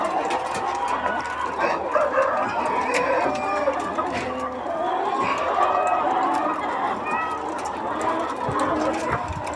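Chickens on a farm clucking and calling in a busy, overlapping chorus at close range, with some activity and people's voices mixed in the background.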